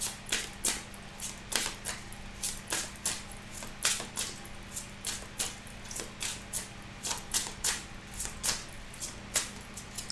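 Oracle cards being handled and shuffled by hand, a steady run of crisp papery flicks and riffles repeating roughly every half second, close and clear with no talk over it.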